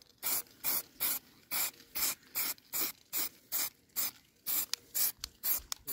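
Paint sprays onto metal parts to stop rust in short, even hissing bursts, about fifteen in a steady rhythm, heard close with no voices.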